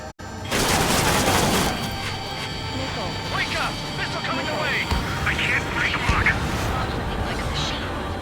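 Missiles and gunfire roar through an Ace Combat 7 air battle against UAVs, a dense continuous fusillade of booms, bursts and jet noise, loud throughout the clip.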